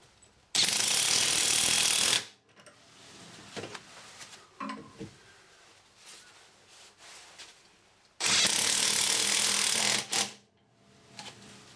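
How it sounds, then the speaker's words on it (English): An impact wrench drives anchors into a concrete wall in two loud, close bursts of hammering rattle, each about one to two seconds, separated by quieter handling clicks and knocks. "We're going to screw these in using an impact wrench"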